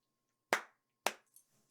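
Two sharp hand claps about half a second apart in a quiet room, each followed by a short reverberant decay, with faint small noises afterward.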